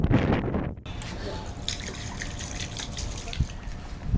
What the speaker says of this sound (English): we're pouring disinfectant in here. We'll dilute it with a bit of water